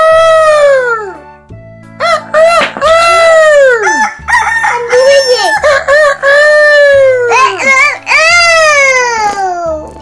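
A voice imitates a rooster with a series of loud, drawn-out cock-a-doodle-doo calls, one after another, close and strained.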